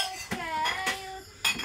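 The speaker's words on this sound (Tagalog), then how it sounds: "Pakanta-kanta na lang habang naguhugas ng pinggan" Plates and cutlery clink and knock against each other during dishwashing, with several sharp, ringing impacts spaced irregularly and heard close up, without anyone talking.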